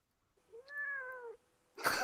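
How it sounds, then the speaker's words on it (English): A house cat gives a single drawn-out meow, close and clear in a quiet room, followed shortly by a brief burst of rustling noise. "That was my cat."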